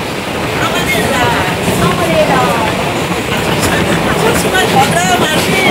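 Loud, steady rumble and rattle inside a moving passenger train with few people aboard, with some voices in the carriage beneath the constant noise.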